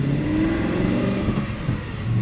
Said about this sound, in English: that pickup is very, very easy, very effortless with the V8 engine that we have behind us